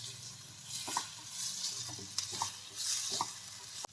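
Chopped tomato and onion with salt and turmeric sauté in a little oil, a close steady sizzle with repeated spoon scrapes and stirring knocks against the pan.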